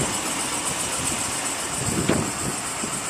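A 2011 Dodge Ram 2500 HD four-wheel-drive crew cab with the 5.7 Hemi V8 idles steadily, a constant engine rumble with a faint high whine and no voices.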